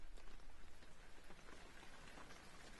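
Rain patters steadily during a funeral scene in the video game Penumbra: Overture, a dense, even hiss of drops on surfaces that stays soft and continuous throughout.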